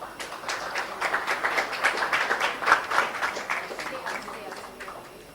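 Audience applause at an award presentation during a conference closing ceremony, a moderate round of clapping that rises, peaks midway and tapers off, with some voices mixed in.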